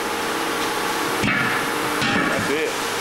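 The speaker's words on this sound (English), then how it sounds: "Get out the big hammer." Heavy hammer blows against a big rig truck tire during a roadside tire change, two sharp broadband strikes landing about a second apart over steady background noise, with a voice speaking briefly.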